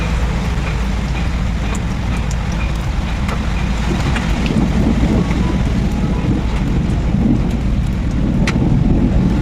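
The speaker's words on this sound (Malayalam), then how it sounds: "ഇടിയും മിന്നലും ഒക്കെ ഒരു സൈഡിൽ കൂടെ ഉണ്ടേ." Steady rain falls in a thunderstorm, with low thunder rumbling beneath a dense, constant wash of rain and wind noise that builds slightly toward the end.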